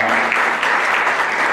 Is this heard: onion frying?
no